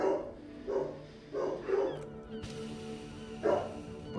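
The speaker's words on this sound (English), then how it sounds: "The dogs have lost it." Dogs in the video game Disco Elysium bark and yip in quick repeated bursts, loud and close, then go quiet before one last sharp bark, with no voices.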